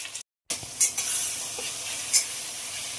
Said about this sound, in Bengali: পেঁয়াজ ভাজা হয়ে গেছে দিয়ে দেবো কেটে রাখা টমেটো দেবো নুন